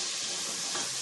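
Onions and garlic sauté in butter in a pan, giving a steady close hissing sizzle with a brief bump of stirring near the end and no voices.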